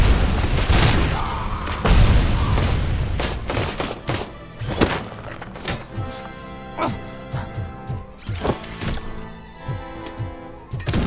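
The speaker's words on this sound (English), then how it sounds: "who's throwing all these goddamn grenades?" Repeated grenade blasts in the shooter game RoboCop: Rogue City, a dense run of booming explosions and gunfire early on, then a string of sharper separate thuds spaced through the rest, loud and close with no talk.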